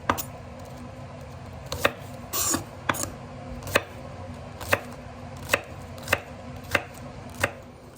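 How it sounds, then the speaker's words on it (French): A knife chopping spring onion on a board, with crisp single cuts landing at a steady, fairly even pace, close and clear over a quiet kitchen background. "On coupe la cébette."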